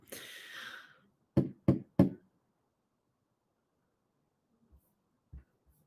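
Three quick, sharp knocks in an even rhythm follow a short burst of noise, then silence and a couple of faint, softer taps later on.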